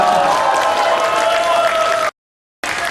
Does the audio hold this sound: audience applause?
yes